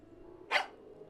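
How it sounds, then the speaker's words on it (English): A single short dog bark in the Tiny Bunny video game, sharp and clear, heard alone against a quiet low background hum. "the dog barked in agreement"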